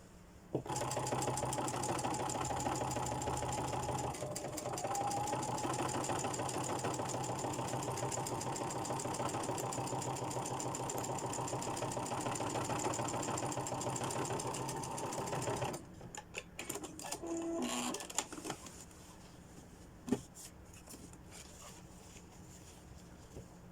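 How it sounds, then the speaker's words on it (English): A sewing machine runs steadily, top stitching down a folded seam allowance close to the seam on a gothic-style blouse, a continuous mechanical whir for about fifteen seconds before it slows into a few short bursts and stops. "fold the top seam allowance over that and top stitch down, top stitch it down close to the seam."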